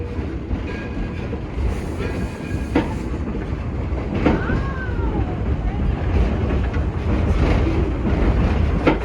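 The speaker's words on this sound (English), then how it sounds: "The locomotive pulling our train today, the Edison, was built in 1932" The Edison, a 1932 coal-fired steam locomotive built in Dearborn, Michigan, pulls a train at Greenfield Village with a continuous rumbling roll and clickety-clack of the cars, brief whistle-like tones and wind buffeting, while people talk faintly nearby.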